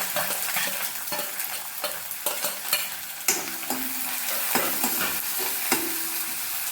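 Finely chopped half onion (shallot) frying in a pan, a steady sizzle with repeated scraping and clattering strokes of a spoon stirring, fairly close, with no voices.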